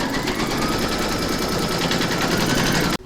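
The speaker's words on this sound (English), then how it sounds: "pop your hoop into your machine and stitch round number 1" An embroidery machine stitches the placement outline round for an in-the-hoop Christmas pudding ornament. It gives a steady, fast, mechanical chatter at close range, then cuts off abruptly near the end.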